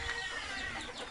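Chickens cluck softly and steadily over a busy farmyard background with ducks, with no one speaking.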